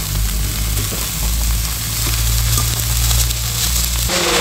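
Cabbage and potatoes frying in a pan for a Bengali cabbage bhaji, giving a steady, loud sizzle with a low hum beneath and occasional stirring scrapes, running continuously before dropping off near the end.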